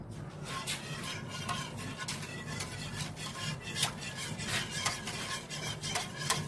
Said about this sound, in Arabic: نقلبهم جيدا، نقلب يا رحمة